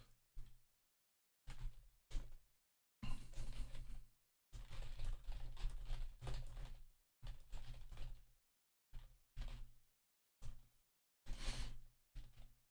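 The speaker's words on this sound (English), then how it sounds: "typing's on." Typing on a computer keyboard: bursts of close clicking keystrokes in short clusters separated by silent pauses, fairly quiet, with no voices.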